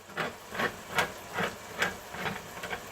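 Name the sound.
shaking a can of coconut cream before opening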